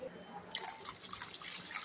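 Water splashes and trickles into spiced buttermilk made from curd with curry leaves, coriander, salt and asafoetida, a faint, patchy liquid pouring sound that starts midway and continues with small drips.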